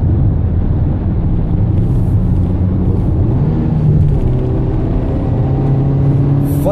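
A 2015 Toyota Etios XLS accelerating on a foggy road, heard from inside the cabin as a loud, steady engine drone with rising harmonic tones as revs climb and shift, under constant road rumble.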